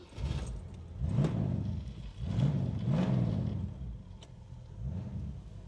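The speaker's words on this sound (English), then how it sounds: "Quick prod on the accelerator." A restored 1965 Ford Mustang V8 manual convertible revs in several short throttle blips, each rising and falling in pitch, with a low engine burble between them, heard from close by.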